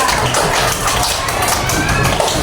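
Primary school children in a fourth-grade Indonesian classroom clap together in a dense, continuous patter of many small hands, close and steady for a couple of seconds.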